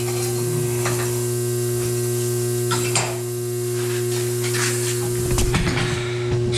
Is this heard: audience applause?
no